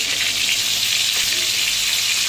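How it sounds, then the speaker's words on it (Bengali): Food fries in hot oil in a pan over medium heat, a loud, continuous close sizzle that holds steady throughout with no speech. "ভাজতে হয় ভালো করে মিডিয়াম আছে"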